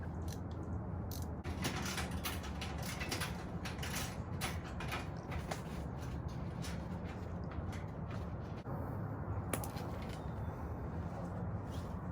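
Bolts come off the underside of a Boom Vader 125 motorbike, a Grom clone, with repeated metallic creaks, ratcheting clicks and scraping mechanism noise in an uneven rhythm, close up and continuous, with no voices.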